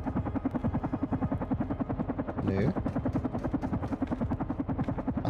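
A helicopter in the video game Carrion beats with a fast, steady rotor chop that stays loud and close throughout. A person speaks briefly over it.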